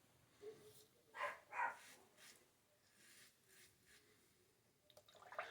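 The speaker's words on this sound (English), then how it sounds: "Somebody's out walking their dog this morning. That's what that other bark is all about." Dog barking outdoors in the morning, two distant barks close together followed by fainter scattered yips against a quiet background.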